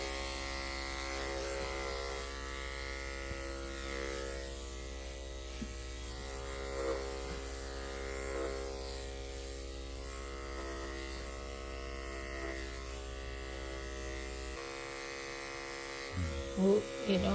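Electric clippers buzz steadily through a labradoodle's textured fur, a constant close hum that runs for most of the moment and cuts off near the end, followed by brief handling noises.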